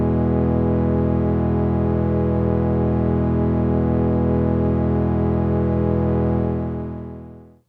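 Synth major chord tuned in equal temperament, held steady and loud for about seven seconds with a slow beating waver in its tone, then fading out at the end.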